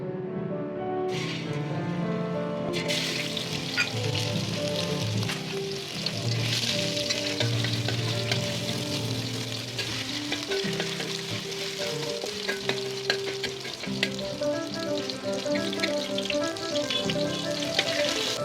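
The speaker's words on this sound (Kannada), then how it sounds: "ಈಗ ಇದನ್ನು ಎಣ್ಣೆಲಿ ಫ್ರೈ ಮಾಡ್ಕೊಳ್ಳೋಣ." Keema meatballs seasoned with salt and pepper fry in hot oil, a steady dense crackling sizzle close up that carries on throughout with occasional louder pops.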